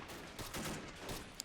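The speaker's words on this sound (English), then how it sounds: "Look at all the bullets hitting the palace back here." A video game shootout with dense, rapid gunfire crackling in continuous overlapping bursts, fairly loud and close, and a sharp single crack near the end.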